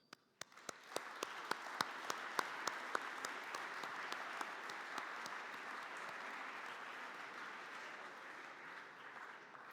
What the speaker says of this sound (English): please join me for a special applause for this immense gesture of Gastfreundschaft